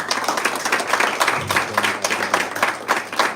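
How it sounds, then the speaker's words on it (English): Audience applause at an architecture award panel discussion, steady dense clapping from a roomful of people, fairly close and continuous for a few seconds. "A round of applause, everyone."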